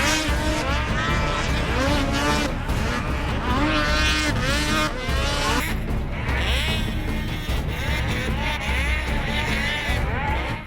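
Snowmobile sleds roar around a snocross track during an AMSOIL Championship Snocross round at ERX Motorpark in Elk River, Minnesota, with several engines whining and shifting pitch continuously and loudly through a dense, overlapping pack.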